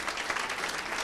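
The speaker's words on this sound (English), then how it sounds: "Give him a nice round of applause." A comedy club audience applauds an emcee, a dense, even wash of clapping from a full room that holds steady through the short stretch.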